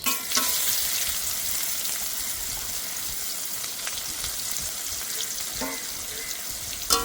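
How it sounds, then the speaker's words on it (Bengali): Chopped onion with whole cumin seeds and a dry red chilli sizzles steadily in hot oil, a continuous close frying hiss with occasional stirring clinks and a few brief splashes, no talking. "পেঁয়াজটা ভালো করে ভেজে নেব।"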